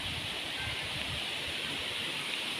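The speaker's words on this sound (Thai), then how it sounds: "น้ำตกภูรินค่ะ" Phu Rin waterfall, a multi-tiered mountain waterfall in Thailand, pours in a dense, steady roar of rushing water that holds constant and close throughout, with no voices.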